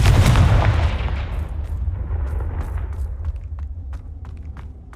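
A Confringo explosive spell goes off in a wizarding video game: a heavy close boom at the start that rolls and fades into a long rumbling tail, followed by faint scattered footsteps.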